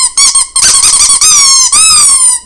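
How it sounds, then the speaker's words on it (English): A movie-accurate Toy Story Wheezy penguin toy with the squeaker in its mouth gives several loud, close, high-pitched squeaks, short bursts followed by two long drawn-out wheezing squeals. "It squeaks just like the movie."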